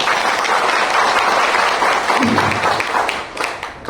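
An audience at a company's second foundation day celebration breaks into applause for Rishi and Rinku, a thick, sustained wash of clapping that stays loud throughout and thins slightly near the end.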